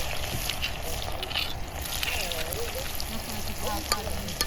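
Crushed garlic hitting about three ladles of hot oil in a pressure cooker over a traditional clay stove: a loud, close, steady sizzle and crackle with a faint scrape, no speech.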